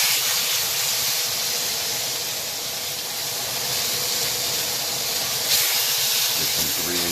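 Chicken breasts, marinated overnight, searing in a grill pan give a steady, close sizzling hiss that stays dense throughout, with a brief flare of spitting near the end.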